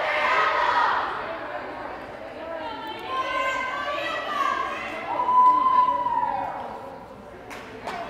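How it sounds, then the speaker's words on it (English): Shouting and cheering from a crowd at a girls' varsity high school volleyball game in a gym, swelling and fading in waves, with one long high yell standing out near the end. "And that cheering is very important"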